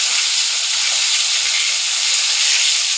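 Rohu fish frying in a pan for an old-style fish curry, a steady loud hiss and sizzle of hot oil running without a break and without talk.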